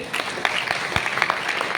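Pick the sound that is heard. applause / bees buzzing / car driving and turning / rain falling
applause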